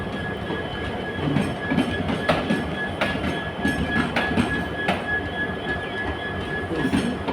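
A Sealdah–Guwahati special express passenger train rolls past on railway tracks, a loud continuous rumble with rhythmic clacking wheels and a thin, steady squeal running throughout.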